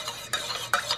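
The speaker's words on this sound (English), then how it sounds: "We'll let this stir in." A spoon stirs coffee in a metal cup, giving two short bright scraping swirls with faint metallic ringing, close up and with no talk.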